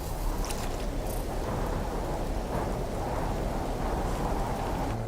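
Constant rainstorm on a rugged mountain world in No Man's Sky, a dense steady hiss of rain with low rumbling beneath, even and moderately quiet throughout with no voices.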